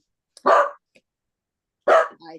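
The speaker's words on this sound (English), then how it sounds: "pardon my dog" A dog barks twice at close range indoors, two short loud barks about a second and a half apart with quiet between them, breaking into a home video meeting.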